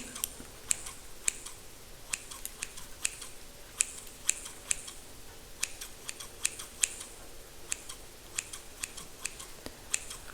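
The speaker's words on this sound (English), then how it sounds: "I'm just gonna snip, snip, snip." Scissors snip through hair while trimming bangs, a steady series of short, crisp metallic cuts close by, with no talking.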